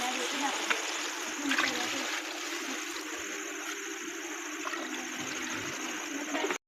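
Water poured steadily into a pot of rice and chickpeas in a village kitchen, a continuous splashing rush that runs without a break from start to finish.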